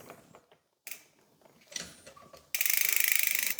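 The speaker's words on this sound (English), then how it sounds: "Now I'm tightening the wheel." A bicycle wheel being tightened during a SRAM AXS derailleur install, heard as a few short mechanical clicks and ratcheting sounds followed by a loud, steady rapid ratchet buzz near the end, close up with no talking.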